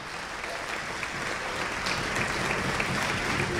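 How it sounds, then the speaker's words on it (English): An audience at a Hartt Orchestra concert gives a round of applause, a full and steady roar of many hands clapping that stays even throughout, with no voices rising above it. "Give him another round of applause."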